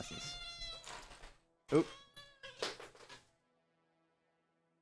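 Pet cats meow indoors, giving a few close, drawn-out calls with short pauses between them, and a person makes a brief exclamation among them.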